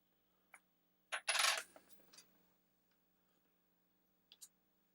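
Small steel washer dropping with a bright metallic clink, followed by a brief scrape and rattle from a foldable grabber reacher, then two faint light ticks; quiet, close, no talk.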